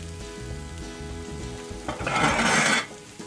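Sauerkraut and red weenies cook in a pan, a low background hum giving way to a bright, loud sizzle that swells for about a second before easing off, with nobody talking.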